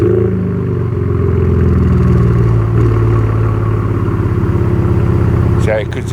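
A Ford Fusion Sport engine runs steadily at close range with a low, rough rumble that holds throughout, then fades slightly at the end as a voice cuts in.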